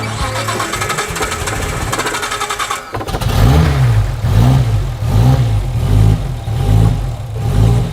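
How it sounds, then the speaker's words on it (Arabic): Nissan Silvia S15 engine cranks and fires, then settles into a loud, close idle with repeated rhythmic revs rising and falling, under steady workshop noise. "بعد كده بيجربوا تشغيل الموتور، وتعالوا نشوف"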